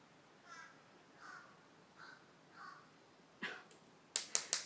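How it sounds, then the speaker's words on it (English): A bird calls outdoors in a series of four soft, evenly spaced cries, followed by a sharper, louder burst of rapid harsh calls near the end, all over a quiet background. "That bird sounds crazy."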